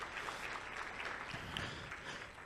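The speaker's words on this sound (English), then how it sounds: "Help me appreciate Jerome once more with a round of applause." An audience at a fintech summit applauds a speaker, a dense wash of clapping that sounds somewhat distant and fairly soft, steady for a couple of seconds.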